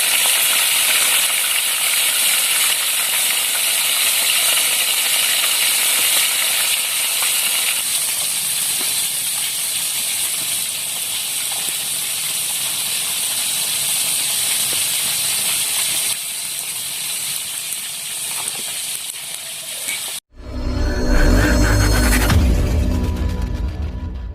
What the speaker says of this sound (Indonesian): Wih, goreng betok nih